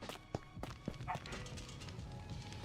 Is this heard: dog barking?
yes